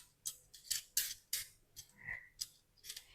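Half a tomato is chopped at random with a knife, giving about ten quick, crisp cutting taps in an uneven rhythm, close and fairly quiet with no talk.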